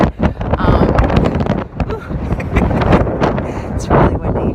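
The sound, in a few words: wind blowing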